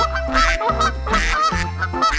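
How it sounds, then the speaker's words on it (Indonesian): A yellow toy duck gives loud, close honking calls, about four in quick succession, with no talking. "ternyata ini dia yang namanya mainan bebek"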